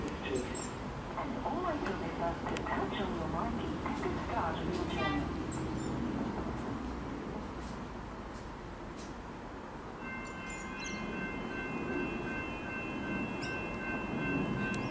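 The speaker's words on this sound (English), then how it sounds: "I've got that train coming." A train approaches a suburban Melbourne railway station, a continuous rolling rumble with clicks and rail noise, with a sustained horn-like tone entering partway through; crossing bells ring in the background.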